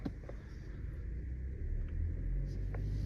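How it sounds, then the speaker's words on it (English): A BMW 330i G20 four-cylinder engine idles with a low, steady rumble from inside the cabin, muffled and fairly quiet, its tone rising slightly partway through. "definitely got the four banger sound in it"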